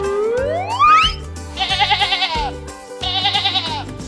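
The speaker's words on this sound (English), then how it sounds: "Sheep and goats are here as well." Cartoon goats and sheep bleat in a farm setting: a rising sweep and boing-like tone, then two bursts of rapid, wavering cartoon bleats over a light background tune, no talk.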